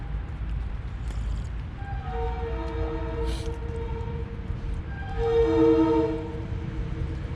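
A train whistle sounds in the distance outdoors, several sustained tonal blasts with a louder, fuller final blast, over steady low rumble and wind-like background noise.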